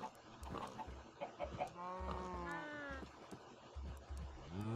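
Minecraft chickens clucking in the video game, several short tonal bird calls in quick succession over soft footstep thumps and a low background drone.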